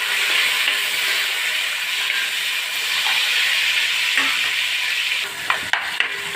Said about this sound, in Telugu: ఇప్పుడు ఇందులోనే 2 టమాటాలు కట్ చేసుకున్నాను, టమాటో అలాగే 3 పచ్చిమిర్చి వేస్తున్నాను.